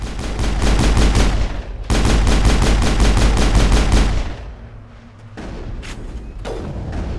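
Shredder rounds fire in the Mass Effect video game, sounding as rapid, loud automatic gunfire in two long bursts, followed by a short lull and then scattered single shots.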